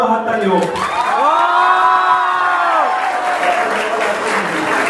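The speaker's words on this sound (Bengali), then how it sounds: "তো এই দুষ্ট ছেলের জন্য একটা বড় হাত তালি হোক" A crowd at a college welcome event claps and cheers loudly, with a long shouted whoop rising over the dense applause.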